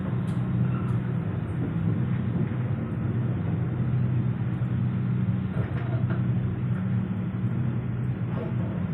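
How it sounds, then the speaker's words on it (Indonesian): Gaya Baru Malam Selatan train pulling out of Pasar Senen station, heard from inside as a steady low rumble and hum of the rolling carriages, with faint rattles and clicks over a constant drone. "pada pukul 11:10 kereta api Gaya Baramawan Selatan diberangkatkan dari stasiun Pasar Senen tepat waktu"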